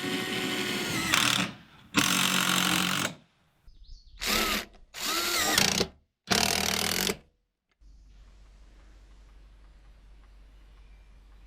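Angle grinder cutting roof trim on a workshop build, sounding in four or five loud bursts of a second or so each, separated by short quiet gaps, then a faint hum.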